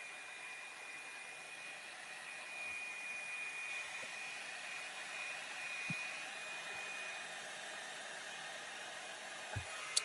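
A hair dryer blows steadily to dry a paper fan craft, a continuous close whooshing hiss with a thin steady whine, broken only by a few faint soft knocks.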